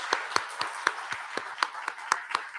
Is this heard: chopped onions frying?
no